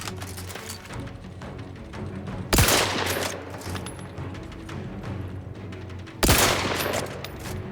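Gunfire in the video game The Outer Worlds 2 comes as two sharp, loud shots several seconds apart, each with a brief ringing tail, over a busy low background rumble of rapid clatter.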